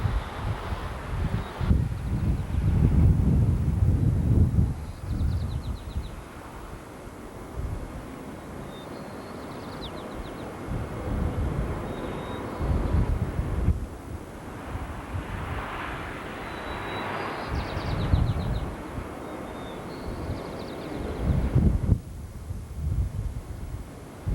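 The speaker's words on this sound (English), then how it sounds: "Quite windy." Strong gusting wind on the hilltop of Twin Peaks, San Francisco, buffets the microphone in heavy, uneven rumbles, easing and swelling again over a steady roar, with no one speaking.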